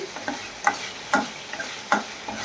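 A carrot curry cooks in a pan, a soft steady sizzle broken by several sharp scraping clicks of a spoon stirring at an uneven rhythm, close and fairly quiet.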